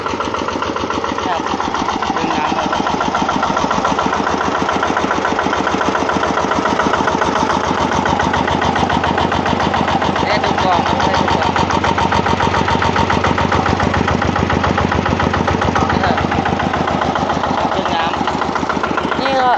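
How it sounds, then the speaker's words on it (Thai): A Mitsubishi-style RT140 single-cylinder engine runs steadily while driving a water pump to irrigate a melon field, its loud, rapid chugging pulse continuing without break from start to finish. "วันนี้ผมจะพามาดู อาทีร้อยสี่สิบดึงน้ำครับ"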